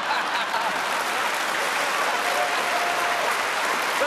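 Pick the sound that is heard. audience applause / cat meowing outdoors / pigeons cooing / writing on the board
audience applause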